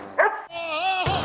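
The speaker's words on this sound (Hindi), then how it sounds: "अभी भी भौंका ही जा रहा है" A dog barks in two or three sharp, loud yips close by, with a whiny, drawn-out tone between them, in a noisy domestic housing-society scene.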